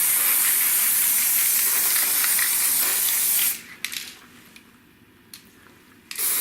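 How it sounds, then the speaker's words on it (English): An aerosol spray paint can hisses in a long continuous burst, coating a stainless steel surface for laser thermal marking, then stops, followed by a few quiet clicks and a brief second spurt. "spray the surface fairly liberally"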